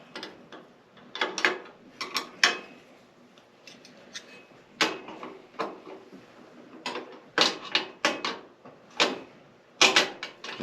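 Backrest on a Kubota B2601 tractor seat being spun after its bolts are loosened, giving repeated bursts of metallic clicking and scraping in uneven clusters, fairly close, with short quiet gaps between them.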